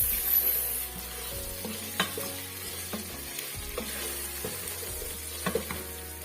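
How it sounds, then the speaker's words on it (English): Onions frying in a pot for Taita pilau are stirred: a soft continuous sizzle runs under repeated scrapes and knocks of the spoon, close and moderately loud, with no talking. "And stir it to mix."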